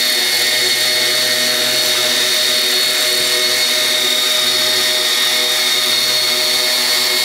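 A radio-controlled helicopter lifts off the ground with a loud, constant, close high-pitched whine of motor and spinning rotor blades, steady throughout with no talking.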